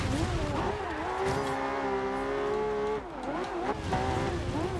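Race car engine in Forza Horizon 2 roars steadily at high revs, pitch climbing through gear changes with a brief dip near three seconds, loud and continuous with occasional tire noise.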